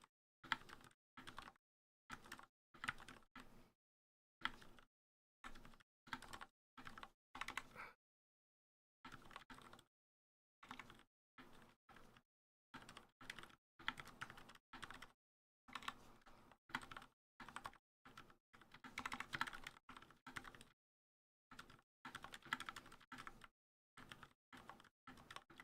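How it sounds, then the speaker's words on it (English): Very quiet, muffled typing on a silent mechanical keyboard in short bursts, soft dull key presses with brief pauses between runs, close up and otherwise silent. "here's a silent keyboard in comparison"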